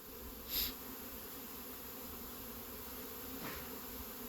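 Honeybees buzz steadily at a hive in mid February, a faint continuous drone with a couple of brief louder passes as single bees fly close by, no voices.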